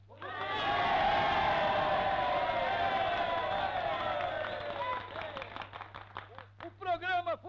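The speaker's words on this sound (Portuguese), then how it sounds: "O programa foi exposto e aplaudido com entusiasmo por todos vocês" Enthusiastic applause and cheering from a crowd at a political party gathering in 1952 Brazil, loud and sustained, then thinning into scattered claps as voices begin to talk over the tail end.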